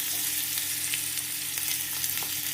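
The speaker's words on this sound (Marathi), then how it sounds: "आता सगळं छान असं तेलात भाजून घ्यायचं." Asafoetida, green chili, onion, tomato and curry leaves sizzle in hot oil in a steady, close hiss, with occasional soft spatters and light stirring, fairly quiet and without voices.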